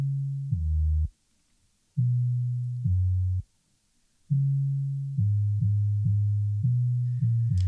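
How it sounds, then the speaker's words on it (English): Soloed 808 bass in a pop punk production, EQ-filtered to roughly the 70 to 200 hertz range, playing deep sustained sub notes in short phrases with two brief gaps, resonant and smooth with no other instruments. "a bass that is strictly in the frequency range of the notes that I'm playing, in between like that 70 hertz to like, you know, almost 200 hertz range"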